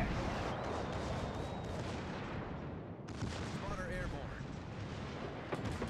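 Warship guns booming in World of Warships: Legends, heavy overlapping blasts with rumbling tails that fill the clip, quiet in level, with game voices and player chatter mixed in.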